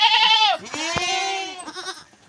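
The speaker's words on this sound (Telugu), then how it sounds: "ఇవ్వండి మా మేక పిల్లలండి" Young goat kids bleating close by, a few loud wavering cries in quick succession, one overlapping another, with no talk.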